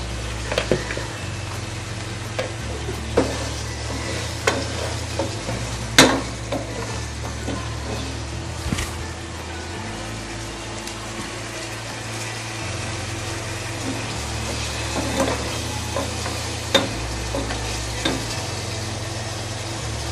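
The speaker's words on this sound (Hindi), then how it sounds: "अब इसमें हम ऐड कर रहे हैं देसी घी" Beef karahi sizzles in desi ghee in a pan, a continuous loud frying hiss with occasional utensil taps and scrapes over a low steady hum from the stove, no voices.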